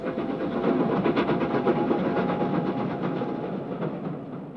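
An ex-LMS steam locomotive hauls a train of Southern Region green coaches on the Somerset and Dorset line, giving a continuous, fairly loud rumbling roar with faint rhythmic beats. It carries on unbroken and fades slightly toward the end.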